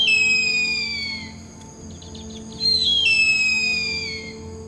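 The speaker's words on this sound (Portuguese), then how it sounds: "De repente, a fêmea começa a piar alto." A female bird calls loudly in a forest, two long descending whistled cries separated by a short pause, clear and close over a low steady background hum.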